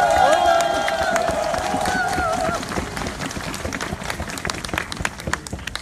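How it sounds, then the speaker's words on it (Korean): A large crowd claps and cheers steadily at a South Korean presidential campaign announcement speech; the applause fades down over several seconds while a voice speaks over it. "따뜻한 박수 부탁드립니다."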